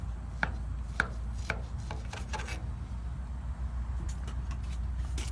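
A knife slicing through gooey candy skillet dessert baked in a camp oven outdoors, giving a few sharp close scrapes and taps against the pan over a steady low outdoor rumble.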